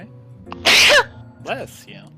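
A single close, loud sneeze bursts out during a tabletop Dungeons & Dragons session, with short vocal sounds just before and after it.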